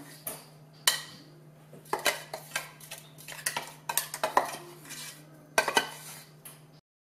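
A spoon scrapes and clinks against a pot while grated coconut and curry leaves are mixed into cooked tapioca for Kerala-style kappa biriyani, in irregular close bursts over a faint steady hum.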